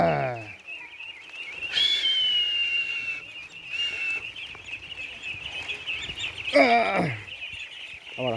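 Ducks are herded home in the afternoon, with a long steady whistle-like tone and bird calls over outdoor ambience, and bursts of voice at the start and middle.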